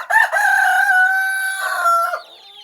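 Free-range village chickens with a rooster crowing loudly and close, one long drawn-out call lasting about two seconds, followed by fainter clucks.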